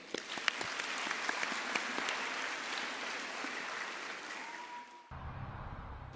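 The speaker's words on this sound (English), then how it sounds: "Please give a round of applause to the senior students of our school." School annual concert audience applauding senior students after a traditional dance act, a sustained crowd clapping with a few sharp close claps, cutting off abruptly near the end.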